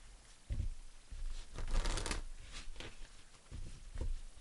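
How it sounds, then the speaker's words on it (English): A tarot deck is shuffled in close, soft papery bursts, riffles and patters coming in several uneven waves over about four seconds in a quiet room, with no speech. "Let's shuffle a little bit."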